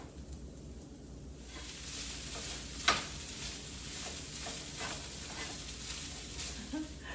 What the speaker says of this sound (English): you have to stir this constantly. You don't want the ginger and the garlic to burn.